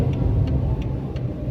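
A manual-transmission car's engine gives a low, steady rumble as it slows and pulls over to the roadside, close and continuous with no talking.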